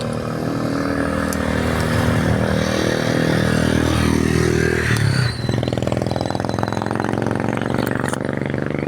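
A motorcycle labouring up a very steep road, its engine droning loudly and continuously nearby, with a sudden dip and shift in pitch midway as it strains, then rattling on alone.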